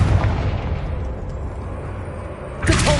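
A fire spell blast in the video game Hogwarts Legacy, played on PS5: a loud, sustained rumbling explosion that rolls on for a few seconds before a fresh burst flares near the end.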